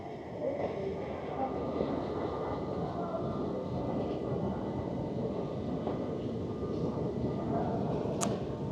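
Interior of a quiet train running towards Charing Cross Station in London, a steady rumbling hum of wheels and carriage with no talk and one brief high squeak near the end.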